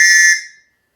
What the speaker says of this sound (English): let's take this whistle out here and we'll give it a blow real quick